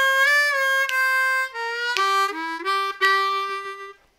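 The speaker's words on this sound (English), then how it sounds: "So lick three will sound like this." Blues harmonica triplet lick on a C harmonica, played alone as a run of bright reedy notes that step downward in quick groups, ending on a sustained low note.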